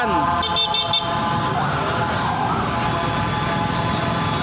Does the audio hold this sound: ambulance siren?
yes